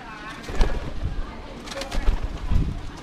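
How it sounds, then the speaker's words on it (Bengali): Pigeons coo in a coop beside a house in a border village, with low soft calls repeating in a loose rhythm, close and moderate in level, with faint breathy noise and some wind between them. "এখানে রয়েছে পায়রা।"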